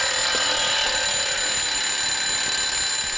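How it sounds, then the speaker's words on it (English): An alarm clock buried inside a coffin rings continuously with a loud, steady metallic trill, unbroken and with no voices. "That was my sister Bridgie's last wish, to be buried with her alarm clock."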